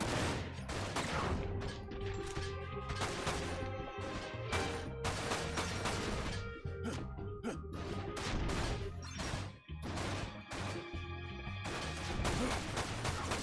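Dense, relentless gunfire from the video game Dirge of Cerberus: Final Fantasy VII, with rapid overlapping shots, crashes and impacts during a headquarters siege, loud and continuous throughout with no speech.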